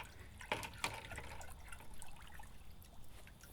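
Hardened steel parts are swirled in a bucket of quenching water, giving soft sloshing and trickling with two brief splashy bursts early on, then a quieter continuous dribble.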